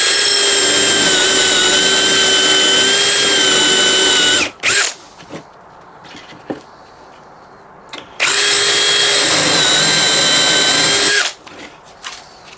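A power drill bores into wood fitted with a depth stop while building sturdy pull-out cellar cabinets, running loud and steady in two long bursts about three seconds each, separated by quieter clattering handling noises.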